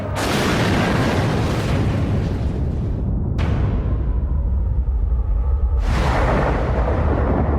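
Heavy bomb explosions, a continuous loud roaring boom with deep rumble, broken into three overlapping blasts as new detonations cut in.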